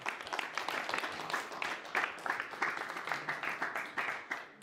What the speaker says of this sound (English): I think we'll have a round of applause for the 4 competitors here.